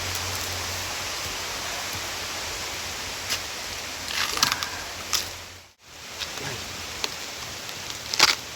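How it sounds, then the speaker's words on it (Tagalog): Steady rain falls inside a mountain area, a dense, even hiss with a few louder drips and patters near the end. "inabutan na tayo dito ng ulan sa loob nitong ano na to"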